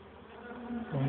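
Steady buzzing of honeybees in a hive close by, a dense droning hum that swells louder toward the end.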